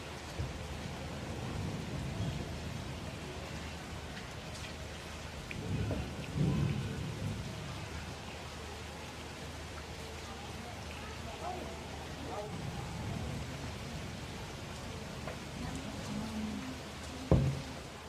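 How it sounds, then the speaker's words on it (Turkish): Steady summer rain pours on a balcony with low rumbles of thunder rolling in the distance and a sharper crack near the end, while someone talks quietly over it. "yaz yağmur ama çok güzel yağıyor şu anda."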